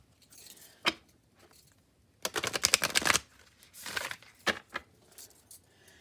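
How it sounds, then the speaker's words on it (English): Tarot cards shuffled in a few separate bursts, a table shuffle and some hand shuffles: quick riffling flutters and soft slaps, close and fairly quiet, with short pauses between. "a table shuffle and some hand shuffles"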